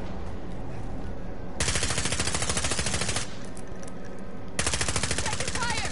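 Rapid automatic gunfire in a Warzone match comes in two long bursts of fast, dense shots, loud and close, separated by a short quieter gap, with a voice speaking faintly beneath.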